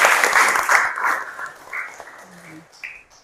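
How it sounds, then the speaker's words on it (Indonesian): A class applauding a student, a short burst of lively clapping close by that fades quickly, followed by a few brief voices. "Nah, beri aplaus untuk Akbar."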